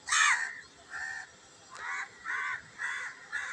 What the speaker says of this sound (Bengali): কাকরা এসে একদম মিছিল করতেছে ছাদে।